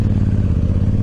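A Honda Africa Twin motorcycle engine throbs loudly up close in a short, rapid pulsing burst, a deep rhythmic rumble with no voices over it.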